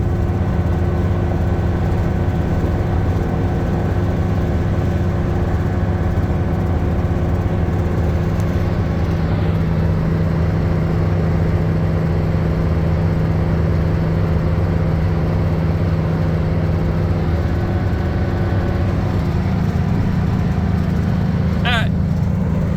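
Steady road and engine drone from inside a car cruising at about 75 mph on a highway in traffic, a continuous low rumble throughout with a brief higher whine near the end.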